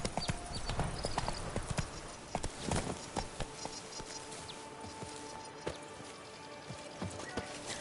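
Hooves of the horse Roach clip-clop at a gallop in a fantasy video game, a steady, fairly close rhythm that fades slightly after the first few seconds, with light ambient rustle and no talking.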